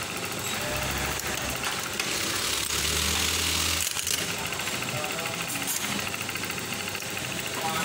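Brother LH4-81 manual buttonhole sewing machine running, a loud rapid mechanical clatter with steady rhythmic knocking throughout and a brief change in pitch midway.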